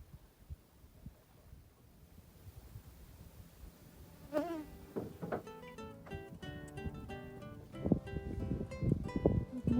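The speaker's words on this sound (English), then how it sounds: "I think there's some mosquitoes that want to come with us this morning." Mosquitoes buzz around a sailboat at a wilderness anchorage in Nova Scotia early in the morning, faint at first, then close, whining passes that grow louder and more frequent, some sharp and pitch-bending as they fly near.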